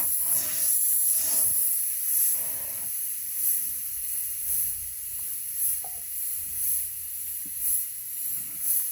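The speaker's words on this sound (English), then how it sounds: "Sorry for the noise, it was my compressor." An air compressor runs with a steady, high hiss throughout, and faint clatter and shifting sounds come and go underneath.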